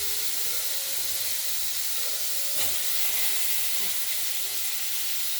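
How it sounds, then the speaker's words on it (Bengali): Cut potatoes fry in hot oil with dried red chili, cumin and bay leaf, giving a steady, broad sizzling hiss that continues unbroken, with a few faint clinks of utensils. "শুকনো লঙ্কা, জিরে আর তেজপাতা দিয়ে আমরা কেটে রাখা আলুগুলো ভেজে নেব"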